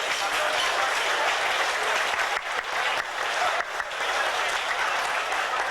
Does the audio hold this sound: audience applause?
yes